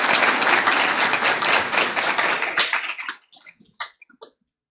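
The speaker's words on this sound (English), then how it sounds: "let's give him one more round of applause" Audience applause at a school board award ceremony, a dense burst of clapping for an Excellence in Service Award recipient that fades after about three seconds into a few scattered late claps.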